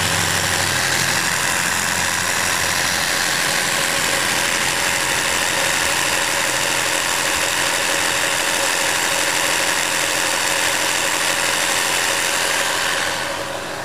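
A cheap $8 tire air compressor from a discount store runs steadily for a radiator pressure test, giving a continuous loud mechanical drone up close that fades slightly at the very end.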